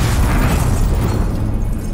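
A bomb goes off in Call of Duty: Modern Warfare (2019), a loud, close, sustained roaring blast that fills the clip and fades slightly toward the end.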